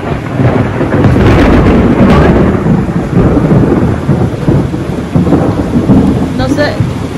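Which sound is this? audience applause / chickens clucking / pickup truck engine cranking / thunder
thunder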